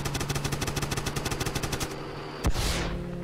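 Rapid automatic gunfire from a shooting video game rattles in a fast, even burst for about two seconds, then a single sharp blast followed by a rushing, fading whoosh.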